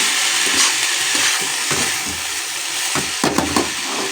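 Cabbage, salted, fries loudly in a pan just used for frying fish, giving a dense, steady sizzle with scattered crackles and occasional scraping from stirring.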